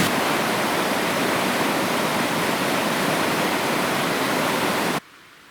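Steady, loud rush of flowing water from a mountain stream in the Gorgany mountains, continuous and close, cutting off abruptly near the end.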